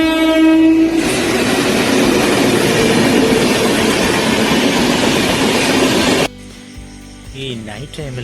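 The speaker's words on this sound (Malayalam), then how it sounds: "വേറൊരു ട്രെയിൻ വരുന്നുണ്ട്, കണ്ടോ?" A train pulls into a rainy night-time railway station in Kerala, its long loud horn sounding first, followed by a roaring rush of wheels and carriages rumbling close by before the noise suddenly drops away.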